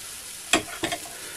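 A spoonful of batter drops into a lightly oiled, warm frying pan, giving a brief sizzling hiss, then a second short spatter and fizz a moment later, close and fairly quiet against a faint background.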